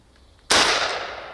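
A Scuba Ringer device fires underwater with one sudden loud burst that cuts in mid-clip and then slowly decays into a hissing, rumbling wash, following a quiet start.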